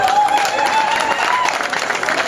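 Brief applause from an audience at a gathering, dense clapping at a loud, steady level throughout, with a faint tone running underneath.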